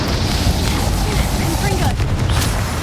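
A Confringo blasting spell bursts in Hogwarts Legacy, giving a loud, booming explosion under a steady wash of noise, with spoken voices around it.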